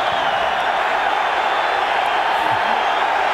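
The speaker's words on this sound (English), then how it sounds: "Wow, they're cheering." A Philadelphia Eagles football stadium crowd roars in a steady, dense wash of cheering, broad and continuous throughout without distinct claps or breaks.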